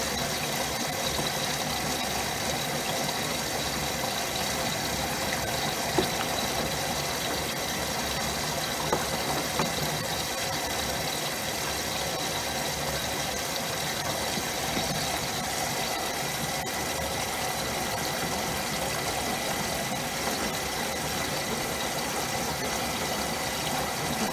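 A Maytag washing machine runs through its rinse and spin phases, a steady, dense broadband whir of motor and sloshing water that holds constant and close throughout, with no talking.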